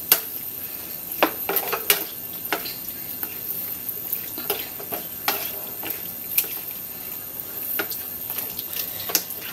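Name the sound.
pouring pork stock into the menudo pot and stirring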